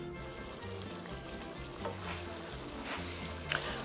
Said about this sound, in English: we will add this to the browned meat, and we will continue to stir with a kind of lively flame